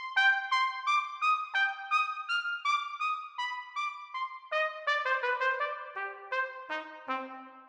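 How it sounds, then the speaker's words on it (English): Piccolo trumpet samples from the VSL Synchron brass library, a very high, bright brass line of short detached notes descending in steps, clean and close with no other sounds. "Starting with the piccolo trumpet, really small instrument,"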